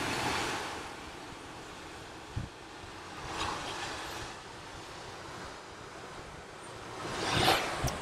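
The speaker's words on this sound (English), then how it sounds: "This is out at Sandy Beach. It's kind of almost the most eastern tip of the island" Ocean waves at Sandy Beach on the eastern tip of an island at sunrise: a steady broadband wash with surges building and breaking about every few seconds, the loudest swell near the end, with no talk.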